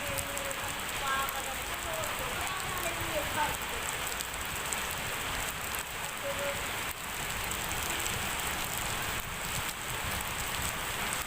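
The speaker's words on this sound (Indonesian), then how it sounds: "saat hujan deras seperti ini." Heavy rain pours steadily over the town square in Bondowoso, a dense continuous hiss of drops on surfaces with no letup, loud and close, with faint background activity underneath.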